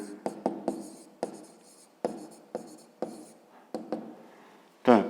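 A pen taps and scratches out an arithmetic equation on paper, a series of short, crisp strokes spaced irregularly, close and quiet with no talk.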